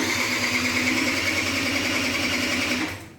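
An Aprilia SR50 Factory DiTech scooter engine, unused for 15 years, runs with a steady buzzing two-stroke drone up close, then cuts off abruptly near the end.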